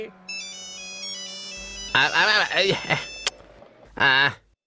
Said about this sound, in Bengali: আবার কার ফোন এলো এখন?